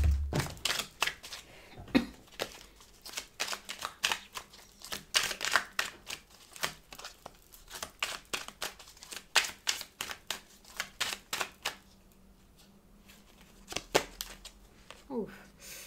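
Tarot cards being shuffled and drawn during a full-moon reading: a dense run of crisp papery riffles and slaps, close and fairly loud, with a brief quieter gap near the end.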